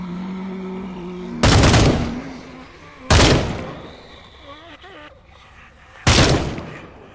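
Three loud, close gunshots fire in the VR zombie game Contagion VR Outbreak, each a sharp blast with a brief ringing decay, spaced a second or more apart.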